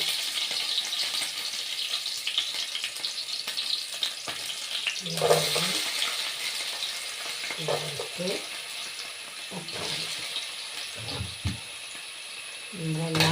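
Vegetables and green chilies dropped into hot oil in a pan, sizzling and frying in a steady hiss with intermittent clinks and scrapes of stirring, close by, while a voice talks over it at times.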